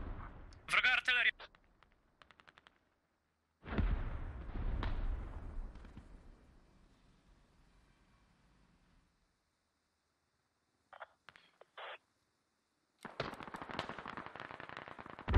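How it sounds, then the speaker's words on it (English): Enemy artillery in a creeping barrage during a Squad match: heavy booming impacts roll in across several seconds, then a second burst of blasts near the end, with voices talking over the gaps. "So we've got artillery coming in on police station. Is that a creeping barrage? Yes, nice creeping barrage."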